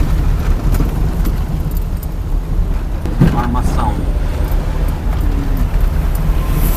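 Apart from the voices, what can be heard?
cars passing in road traffic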